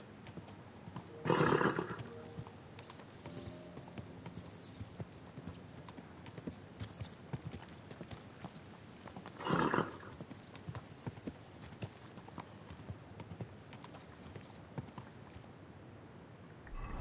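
A horse in Kingdom Come Deliverance 2 gives two brief neighs or snorts, one near the start and one midway, over a quiet bed of faint hoof clopping and game ambience.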